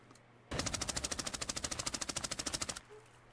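An automatic weapon dumps a full magazine in the shooter game Arena Breakout Infinite: a loud, rapid burst of roughly two dozen evenly spaced shots over about two seconds, then stopping abruptly, with no talk.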